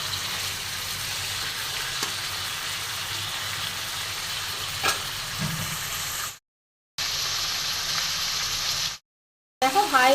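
Chicken frying with crushed black pepper and onion in a pan over a high flame gives a steady, dense sizzle, broken by two brief cuts to silence near the end.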